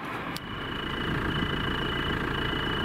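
A car engine idles with a steady mid-pitched rumble, and a thin continuous high chirp of a cricket sits above it.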